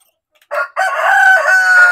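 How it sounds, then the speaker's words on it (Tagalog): A rooster at a backyard chicken farm crows loud and close in one long call after a short opening note, with no talking. "So at least makita nyo rin yung aking mga manok."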